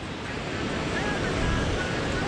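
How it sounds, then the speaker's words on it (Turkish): A mountain river flowing down from the Everest side, heard from a bridge on the trek to Everest Base Camp in Nepal, roars as a steady, loud, broadband rush of water with no talk over it. "bu başka nehir. Bu da Everest tarafından geliyor."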